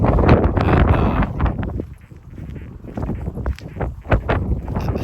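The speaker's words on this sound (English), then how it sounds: "it's pretty windy outside today" Gusty wind buffets the microphone outdoors while someone walks, a rough broadband rumble that swells and dips with a few louder gusts and faint footsteps beneath.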